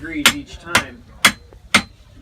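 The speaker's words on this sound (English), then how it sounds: "he's using the hammer to weld it" A hammer strikes heated iron pieces being forge-welded at a muzzleloader gun makers fair, four sharp metallic blows in a steady rhythm about half a second apart, close and clear with quiet gaps between.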